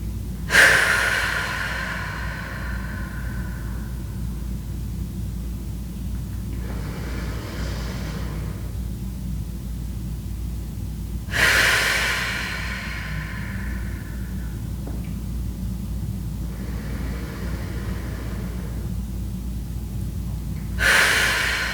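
Deep nasal breaths during a yoga kriya: three sharp, forceful inhales come roughly ten seconds apart, each followed by a long, softer exhale. A low room hum sits underneath, and nobody speaks.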